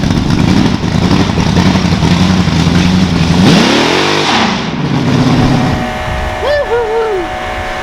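The General Lee wheelstander car's engine revs hard and loud at close range, with a rising, falling rev sweep and a steady rumble, then idling down.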